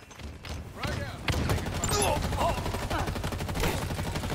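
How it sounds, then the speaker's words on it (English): Dense, rumbling blasts and rapid gunfire in Halo Infinite fill the scene continuously, with a voice talking beneath the booming chaos. "Where am I hearing these explosions come from?"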